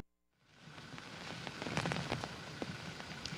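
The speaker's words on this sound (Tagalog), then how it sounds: "bumuhos na muli ang napakalakas na ulan at umiihip na huli ang pagkalakas-lakas na hangin" Heavy rain pours down with gusting wind during a storm in the Philippines, a dense steady hiss with scattered pattering drops that swells in after a brief near-silence at the start.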